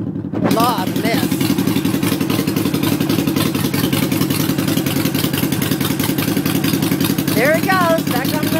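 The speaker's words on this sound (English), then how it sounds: "Brand new Harley. There's my bike." A brand new Harley motorcycle engine runs steadily close by, a continuous mid-pitched rumble with a throttle blip near the end, while voices talk over it.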